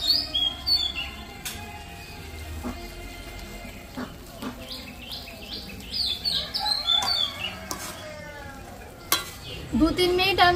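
Boondi cooks on medium heat in a karahi, with a soft steady sizzle under irregular stirring and scraping sounds, and birds chirp faintly in the background.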